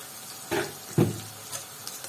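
Salted chicken gets stirred in a pot with onions, producing two distinct scraping, sizzling strokes followed by softer stirring sounds, close up and with no talking.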